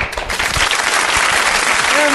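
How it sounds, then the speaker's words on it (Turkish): Steady, dense applause from a studio audience at a children's quiz show, sustained and loud across the whole stretch with no pause. "Alkışlıyoruz."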